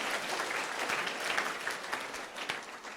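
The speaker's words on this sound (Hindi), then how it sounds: "तालियां जोर से।" A live audience at a student memory-training session bursts into loud, sustained applause, a dense wash of many hands clapping steadily close by for a few seconds.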